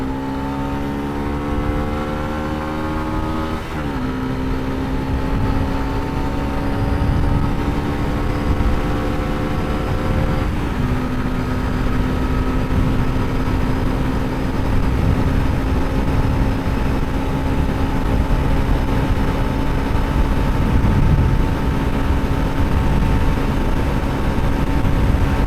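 Yamaha FZS V1 naked motorcycle running flat out at top speed, its engine whine climbing steadily with a couple of gear shifts, loud and continuous under heavy wind rush.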